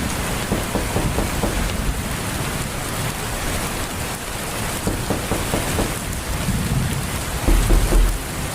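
Heavy rain pours steadily on a surface at night, dense and continuous, with low rumbles of thunder rolling underneath throughout and a louder rumble swelling near the end.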